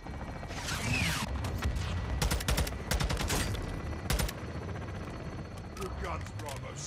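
Heavy gunfire from a Call of Duty Modern Warfare 2 battle, with dense bursts of automatic shots and sharp blasts over a constant roar of combat, loud and close, while voices shout radio-style callouts throughout.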